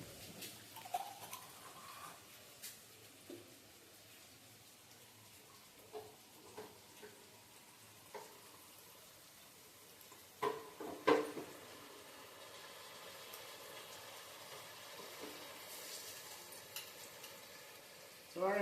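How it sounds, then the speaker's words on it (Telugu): Garelu, lentil vadas, frying in oil, with a quiet continuous sizzle broken by occasional clinks and stirring taps, and no talk. "ఇందులో గారె ఉడుకుతుంటుంది."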